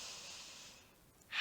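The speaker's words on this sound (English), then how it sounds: "You can close your eyes and we're going to take a couple of deep breaths." One slow, deep breath out during a seated warm-up for a seniors' fitness class fades away and is followed by the sharp start of a near, breathy inhale.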